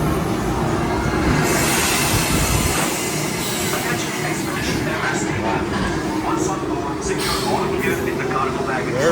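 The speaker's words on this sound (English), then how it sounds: "that's actually the train we'll be on in the far back." A train at Animal Kingdom theme park rumbles along with rail clatter and a low rolling drone, loud and near, while people talk over it.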